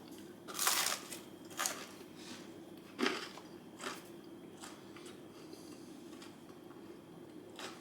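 Several crisp, crunchy bites into a hard pizza crust, spaced out over a few seconds, close up against a low steady background hum.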